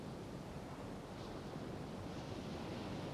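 Ocean waves wash onto a shore in a calm sleep soundscape, a soft, continuous surf rush with a faint breathy wind, steady and distant, without any voices.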